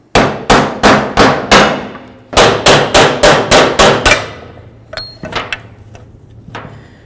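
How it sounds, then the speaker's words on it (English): A hammer strikes a socket to drive out an old gasket seal on a 2007-2017 Ford Expedition, with about a dozen loud, evenly spaced metallic bangs in two runs, followed by a few lighter taps and clinks. "we're just going to give it a couple loving bonks and drive it out"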